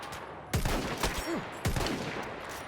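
Two sharp, loud sniper rifle shots crack about a second apart in Battlefield 1, each with a booming low tail and echo, heard up close with little else around them.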